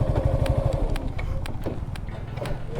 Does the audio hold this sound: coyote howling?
no